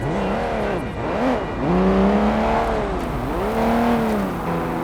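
A car engine in the video game Sleeping Dogs revs hard and repeatedly, its loud pitch climbing and dropping in several sweeping surges, close and continuous.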